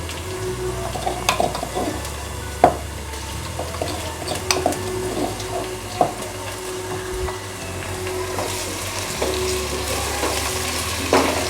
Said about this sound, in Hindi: प्याज के साथ ही इसको भी फ्राई करेंगे।